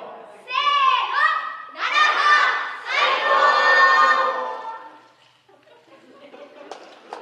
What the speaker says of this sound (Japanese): 声援をお願いします